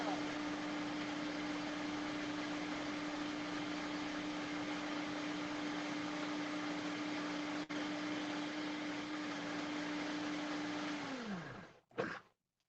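A Vitamix blender runs steadily at high speed while blending raw vegan chocolate pudding, a loud constant motor whir with a whining tone that winds down near the end, followed by a brief clunk.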